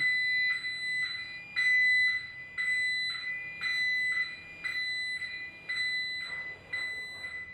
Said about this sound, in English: The alarms were extremely loud